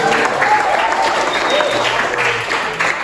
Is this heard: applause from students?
yes